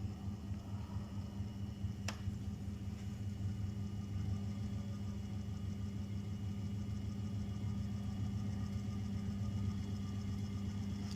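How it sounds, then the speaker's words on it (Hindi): A shunt wound DC motor runs steadily at 50 volts with no load, giving an even mid-low hum throughout and a single brief click near the start. "आपकी आवाज़ आ रही है मोटर की"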